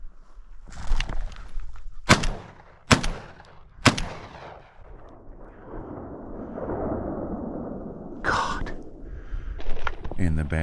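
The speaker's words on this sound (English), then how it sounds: "And the bad shooting continues." Shotgun blasts from a chukar hunt in Hells Canyon: three or four sharp, loud reports fired in quick succession, then a stretch of rustling and wind-like noise, with another sharp crack near the end.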